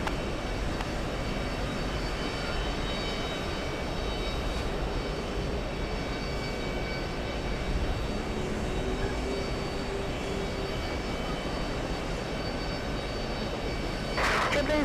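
At JFK airport, a jet airliner roars down the runway on takeoff, a broad continuous engine rumble holding steady and loud throughout, with a brief sharp noise near the end.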